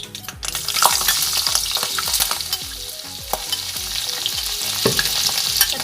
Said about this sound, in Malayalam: ഇതിലേക്ക് ചതച്ച് വെച്ചിരിക്കുന്ന ഇഞ്ചിയും പച്ചമുളകും കൂടെ ഇട്ട് കൊടുക്കുകയാണ്.